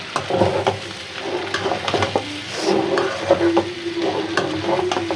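Chicken pasta is stirred and fried in a pan, with a steady close sizzle broken by repeated utensil scrapes and light clinks against the pan, loud and free of talk.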